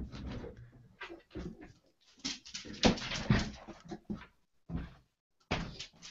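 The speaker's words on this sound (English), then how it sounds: "I hear the dog." A dog whimpers and yips in short broken bursts with pauses in between, fairly close, in an indoor setting.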